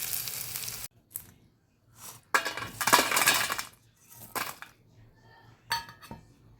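Crispy fried bitter gourd pieces are tossed in a metal pan, giving bursts of dry rattling and clinking with light sizzle between them, close and fairly loud, with a few pauses.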